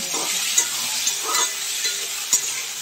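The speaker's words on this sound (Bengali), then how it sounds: "কেটে রাখা আমগুলি দিয়ে এখন ভালোভাবে নেড়ে চেড়ে নেব।" Chopped raw green mango sizzles steadily in hot oil in a pan while a spatula stirs it, with several distinct scraping and tapping strokes over the continuous frying hiss, no voices.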